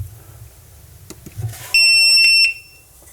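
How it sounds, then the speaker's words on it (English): A loud, piercing electronic alarm tone from a 4-in-1 safety alarm in demo mode blares for under a second after some faint handling noises, then stops. "put it in demo mode for you so you can actually hear the alarm"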